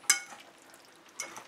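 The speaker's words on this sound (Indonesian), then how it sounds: "aduk agar dia tercampur." A spoon stirs pasta salad with chicken and dressing in a bowl, two short soft clatters a second apart with quiet wet mixing between them and no talking.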